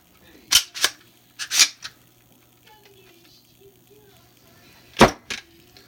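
The charging handle of an assembled AR-15 carbine is pulled, giving sharp metallic clacks and ratcheting snaps in two close pairs, separated by quiet handling noise.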